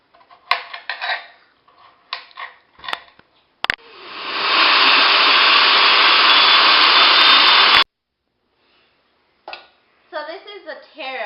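A food processor grinds carrot, taro and jicama in one loud, steady four-second whir, framed by clattering dish and utensil knocks and short spoken remarks before and after.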